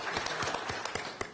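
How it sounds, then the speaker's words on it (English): Audience applause for students at a school board of education meeting, a steady wash of many hands clapping through the whole moment, with a few louder individual claps standing out. "let's give them a round of applause for their efforts"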